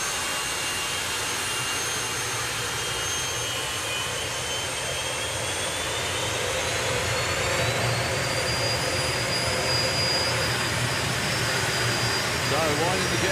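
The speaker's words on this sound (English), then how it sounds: "So, winding the jets up. Big afterburner pops." Jet dragster engines spool up at a drag racing meet, a loud roaring whine rising steadily in pitch and staying close, with a commentator talking over it.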